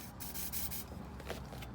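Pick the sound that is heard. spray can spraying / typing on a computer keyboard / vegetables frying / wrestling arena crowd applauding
spray can spraying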